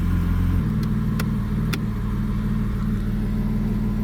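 A 1992 BMW 320i E36 driving at night, heard from inside as a loud, steady low engine drone that shifts pitch early on, with a few faint clicks and no speech.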